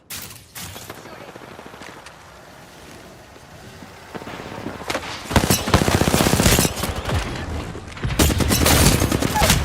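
Apex Legends gunfire starts after a quieter stretch. Loud bursts of rapid automatic fire come in clusters through the second half, and a voice talks over the game audio at times.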